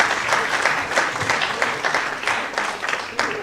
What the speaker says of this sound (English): We clap for them as they take their seats over this side.